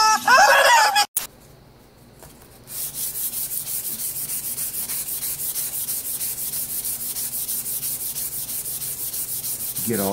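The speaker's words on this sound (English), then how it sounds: "I know how much you guys love to watch me do some sanding" A rust- and paint-coated Marlin 81 DL rifle barrel is sanded by hand, with a steady, rhythmic back-and-forth rasp close by that runs for most of the stretch after a brief noisy start and a short gap.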